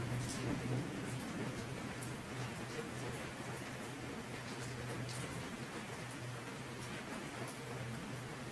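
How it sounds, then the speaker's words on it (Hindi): Heavy rain falls steadily in a broad, even hiss, continuous and fairly loud throughout, with a low hum running underneath. "यहाँ पे खूब जोर से बारिश हो रही है"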